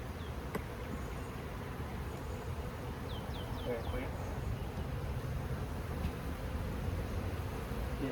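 Honeybees buzzing in a box during a trap-out, a steady hum under a fluttering outdoor background, with a few short words spoken nearby.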